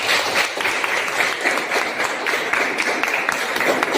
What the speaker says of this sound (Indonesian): Kalau begitu beri aplaus dulu untuk semua kelompok.